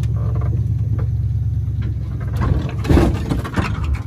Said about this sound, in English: we have a monster truck now trying to pull us up something